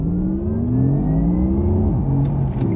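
Porsche Taycan Turbo electric car accelerating hard from 30 mph, a steady rising whir with low road rumble filling the cabin, continuous and fairly loud without speech.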